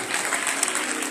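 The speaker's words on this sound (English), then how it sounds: "somebody clap for Jesus" A brief burst of crowd clapping and cheering at a church healing gathering in Dublin, loud and continuous, with many hands at once.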